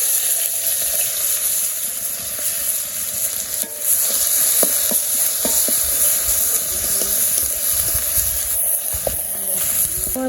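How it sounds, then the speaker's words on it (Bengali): Onions frying with cumin and radhuni in hot oil in a kadai. A loud, steady sizzle runs throughout, with occasional clicks and scrapes of stirring breaking through. "আমার পেঁয়াজ ভাজা হয়ে গেছে"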